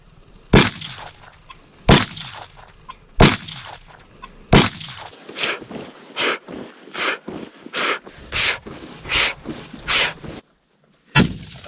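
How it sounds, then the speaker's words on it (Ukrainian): Rifle shots at a Ukrainian scouts' firing drill ring out, first a few spaced apart, then a quicker run of sharp cracks, each loud and close with a short echo. "Чотири постріла. Вогонь."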